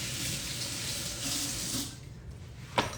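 Kitchen tap water runs steadily while two carrots are washed for a Chinese herbal lotus root and sweet corn soup, a soft, continuous hiss that cuts off partway, followed by a brief clatter.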